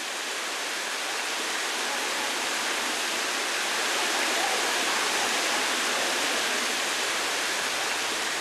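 An artificial rock waterfall in a Paris park pours in a steady, dense rushing hiss, a continuous cascade heard close and without pause.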